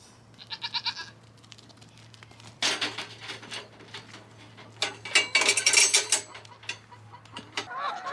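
A dairy doe on a farm hollering in hoarse, raspy bleats: a short burst, then two longer loud calls, with a faint steady hum underneath.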